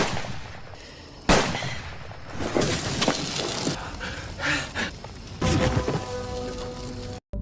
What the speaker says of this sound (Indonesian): Dengan senapan FF door, Casey pun berhasil menembak Kopet Cleed sampai modar.